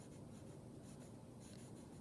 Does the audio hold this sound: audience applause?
no